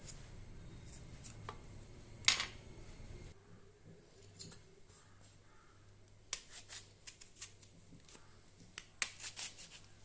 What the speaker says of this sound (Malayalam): കുഞ്ഞുള്ളിയെല്ലാം ഞാനിതുപോലെ ഒന്ന് അരിഞ്ഞെടുക്കട്ടെ